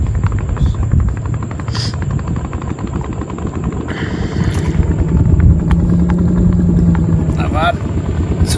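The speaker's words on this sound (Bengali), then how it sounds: "পিছনে একটা বোট আসছে।" Steady droning boat engine on a river in the Sundarbans at night, a continuous buzzing motor running loud throughout while people speak over it.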